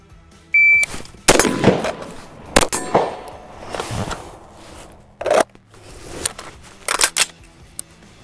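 Rifle and pistol shots fired during a tactical reload drill ring out as loud, sharp cracks spaced unevenly over several seconds, with quieter metallic handling clatter between them and no talking.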